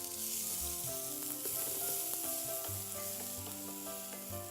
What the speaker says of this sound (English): जब इनको crackling sound आएगा, जब ये स्प्लटर करने लगेंगे